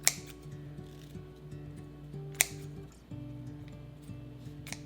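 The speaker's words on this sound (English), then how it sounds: "We're gonna cut a few lengths of this." Scissors snipping lengths of string, with a few sharp distinct cuts standing out among quieter handling and rustling close by, no talking.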